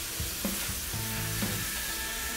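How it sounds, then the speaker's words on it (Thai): Yellow noodles with mushrooms and carrots stir-fried in a wok, a loud continuous sizzle broken by the scrape and clatter of stirring, close up with no voices. "ใส่หมี่ซั่วหรือเส้นหมี่เหลืองลงไปผัดในกระทะแล้วก็คลุกเคล้าทุกอย่างให้เข้ากันอีกรอบ"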